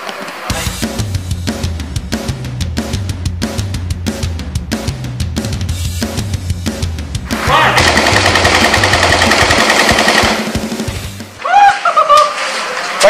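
An AK-47 rifle firing full auto at a shooting range, a rapid, loud series of close gunshots in a fast rhythm, followed by a sustained roar of sound and then people laughing.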